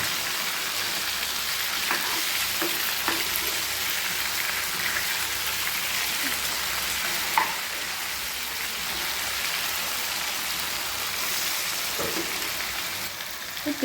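Sankara fish frying in a pan, a steady broadband sizzle that runs unbroken throughout, with a few faint clicks and light taps of a utensil scattered over it and no one speaking.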